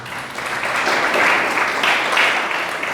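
A church congregation applauds during a sermon, a loud, sustained roar of many hands clapping together, steady from start to finish.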